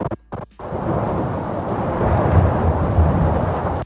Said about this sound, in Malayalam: അടുത്തതായിട്ട് ഞാൻ ഇവിടെ ഒരു ഇടിമിന്നലിൻ്റെ ശബ്ദം ഡൗൺലോഡ് ചെയ്ത് വെച്ചിട്ടുണ്ട്.